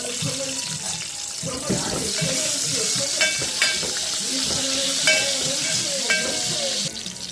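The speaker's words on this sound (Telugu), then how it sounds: "ఆనియన్స్ ఫ్రై అవుతా ఉన్నాయి కదా" Onions fry in oil in a pan with a loud, continuous sizzle close by, broken by occasional clinks and stirring.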